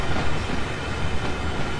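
A train rolls along rails in the Train Sim World 2 game, producing a loud, continuous rumbling roar with a slight uneven pulse and no voices.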